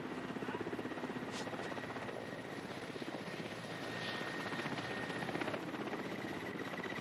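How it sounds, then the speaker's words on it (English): A helicopter hovering over treetops thumps in a steady rapid rotor pulse with a constant engine whine, sustained and fairly distant throughout. "a helicopter hovering in the treetops"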